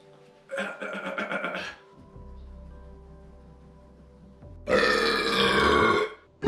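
Two long, loud belches in a burping contest, each lasting over a second with a rough, rattling tone, separated by a quieter low rumbling stretch.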